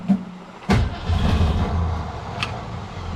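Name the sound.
1963 Ford Fairlane 500 engine cranking and running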